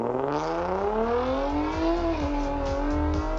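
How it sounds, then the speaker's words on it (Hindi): Revving car engine steadily climbing in pitch as it accelerates hard, a loud continuous close engine note with no talk, set in the Pune Porsche crash account. "वो लड़का गाड़ी चलाने लगता है"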